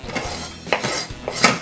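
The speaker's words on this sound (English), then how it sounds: "And we're going to whisk that just a little bit." Salad dressing with fresh dill is whisked briefly, giving a few soft clinking and scraping strokes against the container, close and fairly quiet.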